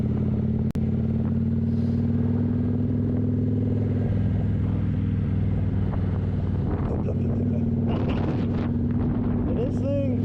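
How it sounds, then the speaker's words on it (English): Close, loud low rumble of a motorcycle running its factory exhaust with the baffles removed while being ridden, steady throughout with some wind buffeting. "this thing, it's factory exhaust, but the baffles are out of it"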